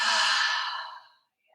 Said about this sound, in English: Breathe in through your nostrils and out through your mouth.